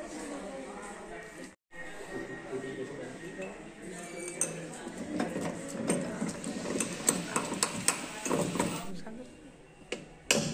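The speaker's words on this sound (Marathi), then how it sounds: "आपले गेअर पार्ट लावणं चालू आहे मशीनला." Metal gear parts clink and tap against each other as they are fitted onto a lathe machine, the light metallic knocks growing busier midway while someone talks throughout.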